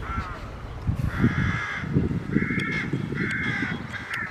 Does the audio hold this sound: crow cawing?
yes